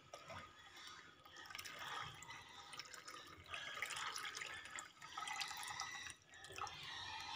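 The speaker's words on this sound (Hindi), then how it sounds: "अब इसमें हम पानी डाल देंगे।" Water pours steadily into a pot of milk sharbat with dissolved sugar, splashing and gurgling in bursts that rise and fall, close by with no talking.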